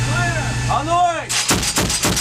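Artillery and weapons fire during a live-fire assault exercise by US Marines and Australian Army: a loud close blast with a rumbling tail, then several sharp rapid reports in quick succession, with a shouted command.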